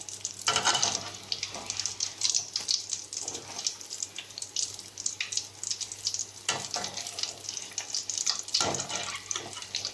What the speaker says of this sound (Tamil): இந்த மைதா மாவில் நல்லா இந்த மாதிரி டிப் பண்ணி நம்ம எண்ணெயில் போட்டுக்கலாம்